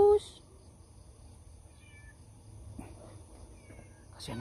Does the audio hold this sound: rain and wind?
no